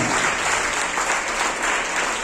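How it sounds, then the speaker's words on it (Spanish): A church congregation claps in praise to the Lord, a steady, dense roar of many hands sustained evenly through the whole short stretch. "Aplauda al Señor."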